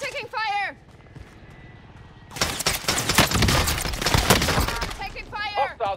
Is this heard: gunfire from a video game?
yes